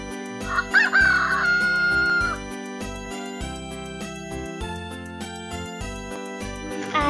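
A rooster crows once with a long drawn-out call near the start, with clucking chickens around it. The birds are close and loud over a steady background that runs throughout.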